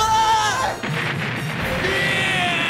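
A cannon blast fires in the animated Japanese series Beast Wars II: Transformers, a loud, sustained roaring boom filling the short clip with no talk over it.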